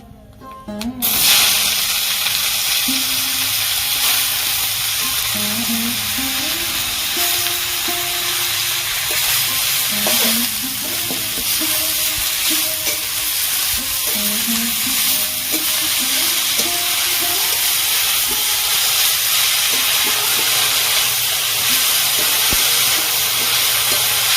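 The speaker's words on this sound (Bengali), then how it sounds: "এবার আমি শাকগুলো দিয়ে দেবো" Betho (bathua) greens fry in a pan with poppy seeds, bori and peanuts, a steady loud sizzle and hiss running throughout, with a voice murmuring faintly underneath.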